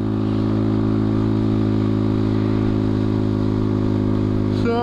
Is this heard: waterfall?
no